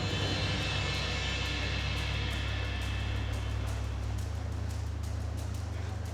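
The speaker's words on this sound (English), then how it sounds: "We've got a drone we're going to be using to measure their body condition." A research drone flies over water in Antarctica to measure whales' body condition, making a loud, steady droning buzz that holds constant throughout.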